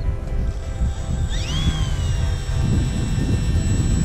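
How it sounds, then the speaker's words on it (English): A Parkzone ArtiZan RC plane takes off from grass, its electric motor whining steadily under an outdoor rumble of wind, with a rising, sweeping tone midway as the motor speeds up. "Just gonna do some takeoffs and landings."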